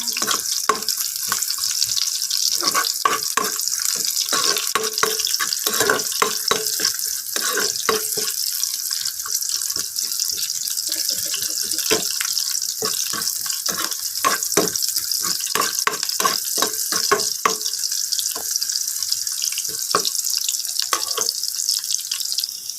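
Onions stirred and sautéing in a pan for a Filipino dish of stir-fried water spinach with sardines, a steady hiss broken by frequent clinks and scrapes of a utensil, close and fairly loud, with no talking.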